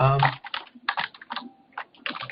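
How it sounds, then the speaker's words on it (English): Fast, uneven clicking of typing on a computer keyboard during an online meeting, close and clear, with a voice speaking briefly at the start. "you're still typing"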